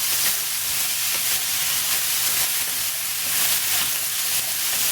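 A mix of vegetables sautéing in a pan for thalagam, heard as a steady, fairly loud broadband hiss and sizzle with faint stirring clicks throughout and no talking.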